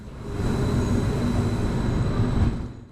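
A Type 76 bi-mode multiple unit built on the Stadler Flirt platform pulls into a station, a steady low rumble of wheels and motor that holds loud and constant before easing off at the end.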